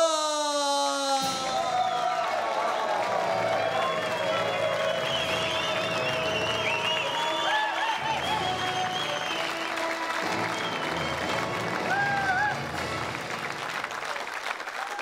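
Large live show audience in Norway breaking into loud, sustained applause with cheers and whoops as imitator Herodes Falsk comes on stage, a dense clapping roar filling the whole stretch.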